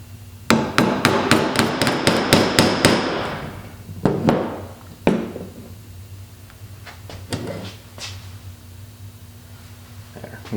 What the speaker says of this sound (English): Get out your favorite hammer.